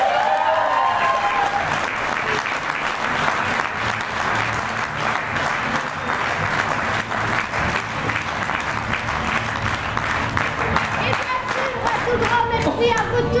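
A theatre audience applauds at the end of a comedy performance, a dense, sustained wash of clapping from a crowd with faint voices mixed in, steady and loud throughout.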